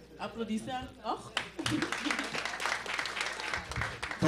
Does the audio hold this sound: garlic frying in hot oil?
no